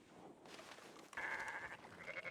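Sheep bleating in the Red Dead Online game world, a couple of wavering, nasal bleats rising over steady ambient background, moderately close and clear with no talk.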